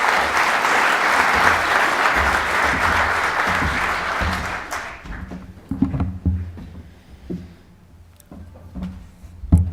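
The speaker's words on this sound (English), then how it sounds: "to a warm round of applause, I invite Monsef Kartas" Warm applause from a lecture hall audience rolls on steadily for several seconds, then fades into sparse scattered claps and a few thumps as the room settles.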